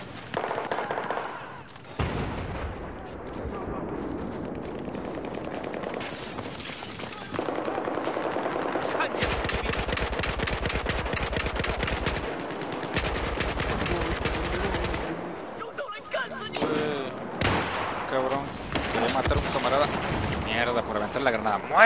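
Automatic gunfire bursts in Battlefield 4 clatter loudly and repeatedly, with dense rapid volleys and brief gaps over about twenty seconds. Frequent talking runs over the shooting.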